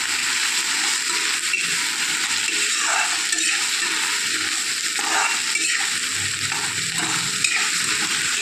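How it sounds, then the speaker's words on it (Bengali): Cauliflower and potato pieces frying in a pan, a continuous bright sizzle with intermittent scraping stirs of a spatula, close and fairly loud, no speech. "ফুলকপি, আলু ঢেলে দিলাম। এটাকে এখন একটু আমি ভাজা করে নেবো ভালো করে"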